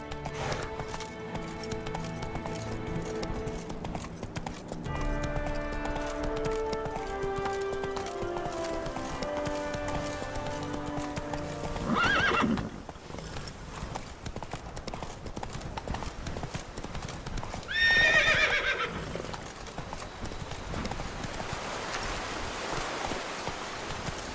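A horse gallops in The Witcher 3, its hooves beating a steady, close clip-clop over game music, with a couple of brief louder bursts along the way.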